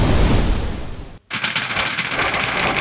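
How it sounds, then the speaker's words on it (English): A steady, loud roar of surf washing continuously, with a brief silent break before the broad rushing sound of waves resumes. "such as waves in the ocean"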